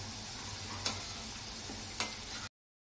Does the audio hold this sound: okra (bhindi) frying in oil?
yes